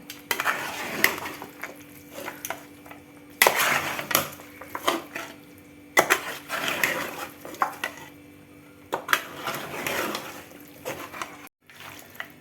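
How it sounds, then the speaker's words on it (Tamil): Chicken tossed with marinade in a bowl, close clattering of a spoon against the dish in uneven bursts with brief pauses and wet squelching between scrapes. "எல்லாம் போட்டு மிக்ஸ் பண்ணிகிட்ருக்குறோம்"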